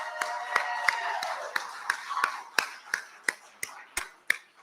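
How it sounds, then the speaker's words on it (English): Scattered, sparse applause at a fall event, individual hand claps ringing out one after another at a steady slow pace as a small audience's clapping thins out, with faint voices underneath. "let's give an even louder round of applause for John Faust"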